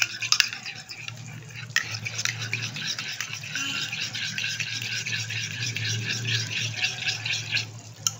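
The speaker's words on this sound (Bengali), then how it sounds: "দইটাকে আমি ভালো করে ফেটিয়ে নিলাম।" Yogurt being whisked in a bowl for a coriander chicken dish, a steady scraping and stirring rhythm that continues close up for the whole stretch, with no voices.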